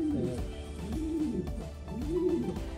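Pigeons in a breeder loft give a close, continuous series of low, rolling coos that rise and fall in overlapping phrases, with faint background noise.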